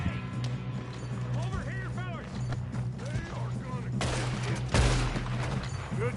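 Gunfire in Red Dead Redemption 2 during a shootout, a steady barrage of shots under shouting voices, with a loud, close burst near the end.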